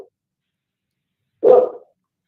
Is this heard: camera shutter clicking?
no